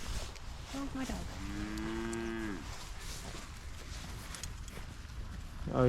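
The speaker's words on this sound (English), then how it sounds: "That's a cow." A single low, drawn-out cow moo carries across an open outdoor space, moderately close, over a soft breezy background.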